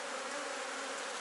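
Dense, steady buzzing of many honeybees swarming at an open hive over a brood frame, close and continuous, with no voices.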